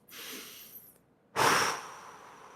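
Two heavy breaths after stretching, a long airy exhale followed by a short pause and a sharper, louder gasping breath, close and quiet.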